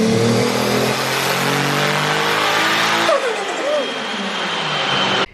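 A Toyota Supra turbo engine revs hard during a pull, a loud sustained rising roar with harmonic whine. It drops slightly around the midpoint, carries on and then cuts off abruptly at the end.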